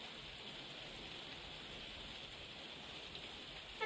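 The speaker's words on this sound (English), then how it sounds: "it's raining here today. You can probably hear it battering on my conservatory roof" Steady rain drums on a conservatory roof, a dense, even hiss of drops holding at constant loudness from start to finish, with a slight bump right at the end.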